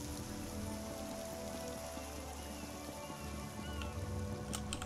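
Rain falls in Clockwork City in ESO, a faint, continuous hiss of drops spattering on surfaces, soft and even in the background with scattered small ticks.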